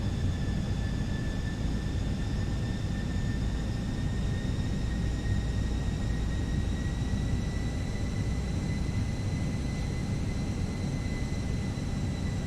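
Fenix A320 airliner engines in a flight simulator during a stormy landing in Iceland, a steady, loud broadband roar with a deep rumble and faint tonal whines running unbroken throughout.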